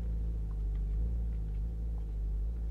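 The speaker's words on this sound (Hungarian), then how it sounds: "Azért viszi az alapjárat, halljátok?" Car engine idling steadily in a home garage build, a low continuous rumble with a faint hum, heard alone with no talk.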